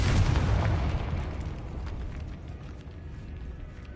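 A Confringo explosion spell from Hogwarts Legacy on PS5 goes off as a single loud boom at the start, then decays into a fading rumble over a few seconds.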